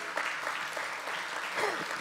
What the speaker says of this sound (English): Would you give God one more clap?